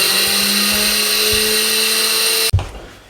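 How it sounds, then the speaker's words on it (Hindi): Electric grinder coarsely grinding pickle spices with ajwain, a loud steady high-pitched motor whine that cuts off abruptly near the end, followed by a thud and rattle. "दरदरा सा ग्राइंड कर लें"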